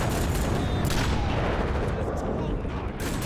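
Rifle fire in the video game Rogue Trooper: dense, continuous loud gunfire and explosive booms filling the whole stretch, with speech mixed in.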